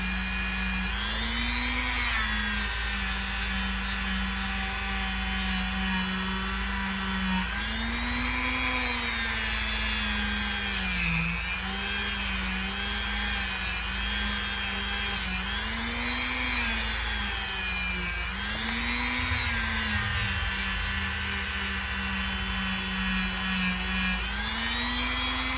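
A high-speed rotary tool fitted with a rust-removal accessory grinds aggressive heavy rust off metal, a continuous close whine with a harsh scraping hiss that dips and rises as pressure changes, with no talking.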